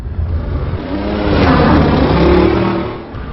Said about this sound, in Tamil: இது என்ன வண்டி? ஃபார்ச்சுனர்.